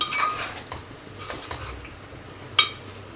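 Chicken and cauliflower pieces are stirred in hot oil in a pan, with a low sizzle, a few soft scraping spoon strokes and a sharp clink of metal near the end, close and fairly quiet.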